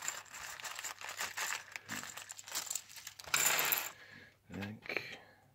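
A small plastic packet holding USB parts is crinkled and torn open at close range, giving bursts of crackling rustle with a louder tearing rush midway and a few clicks near the end.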